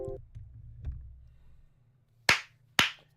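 Two sharp, loud hand claps close by, spaced about half a second apart, following a stretch of quiet low background murmur on a podcast set.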